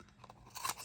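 A large-scallop corner rounder punch bites through paper in one quick, quiet crunching snip, close by and alone.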